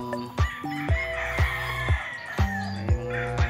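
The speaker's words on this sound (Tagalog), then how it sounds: "may mga kakaproblema ng mga manok natin" Chickens at a gamefarm on an overcast morning cluck and call nearby, with a steady series of sharp low thumps or knocks recurring about every half second beneath the bird sounds.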